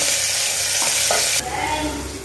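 Steady loud sizzling of chopped onions frying in a pan for chana biryani, with scraping stirs and a brief shift in the hiss partway through; no voices.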